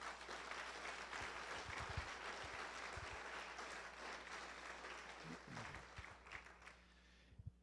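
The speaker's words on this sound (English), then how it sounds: "So let's give the speakers a round of applause too" An audience applauds the speakers at a lecture, a broad, even patter of clapping that holds steady and then fades out near the end, with faint low thumps beneath.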